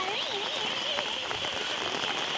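Rain falls steadily in a dense hiss, with chirping birds and brief sharp taps layered over it.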